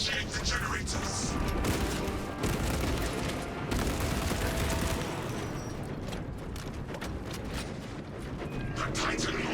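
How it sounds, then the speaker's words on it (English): A dense, continuous barrage of explosive bursts and rapid firing as a Titan launches missiles in a Space Marine video game, loud and chaotic, with game-like mechanical effects layered throughout. "The Titan launches its missiles."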